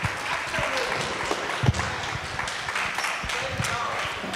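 An audience at a village community address claps for the village chief, steady moderate applause with scattered distinct hand claps standing out, continuing evenly the whole time.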